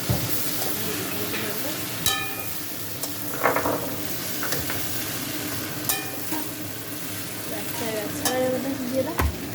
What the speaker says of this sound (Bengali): আমার মা এখন ভেজিটেবিলগুলো দিয়ে দিল, ভালো করে কষা করে দিল